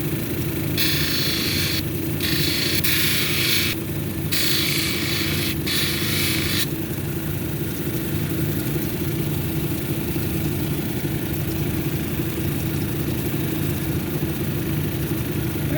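A lapidary wheel at 280 grit grinds a mahogany obsidian cabochon with a steady, constant motor hum, while bursts of sharper hissing grinding come and go in the first several seconds as the stone is pressed against the wheel.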